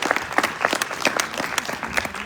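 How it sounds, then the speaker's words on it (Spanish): A conference audience at an international pro-life and family gathering claps steadily, a dense patter of many hands sustained throughout without a break. "lo recibimos con un aplauso"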